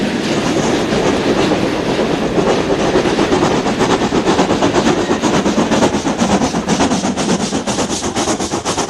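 Model steam trains running on a layout, a loud, steady rolling rumble with fine rhythmic clicking of wheels over rail joints, continuous and close throughout.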